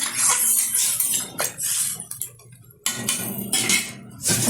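Metal spoon scraping and clinking against a pot as pumpkin and potato curry with added water is stirred, in bursts of clattering with a short quieter gap midway.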